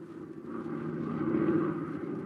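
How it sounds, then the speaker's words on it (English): Aeroplane sound effect from a 1942 radio drama: a faint, steady propeller-engine drone with a low rumble that swells slightly, heard alone and briefly. "We bring you now the sound of an aeroplane,"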